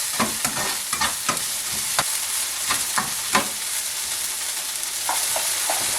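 Peas cook in a sizzling pan while a spoon stirs them, knocking and scraping in quick bursts early on before the frying hiss carries on more evenly.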